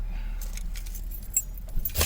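Keys jangle briefly and close by, a metallic rattle that swells near the end, over a low steady hum.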